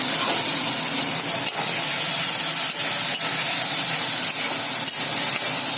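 Spice mix for a Sunday special chicken dish added to a hot pan: loud, continuous sizzling and frying hiss, close and steady throughout, broken by faint clinks of stirring, with no talk.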